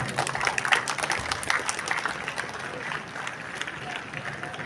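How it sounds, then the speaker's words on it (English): An audience at an Independence Day celebration at an institute applauds for an honoured professor, steady crowd clapping throughout with a brief voice mixed in. "May we have a round of applause for Professor Patro."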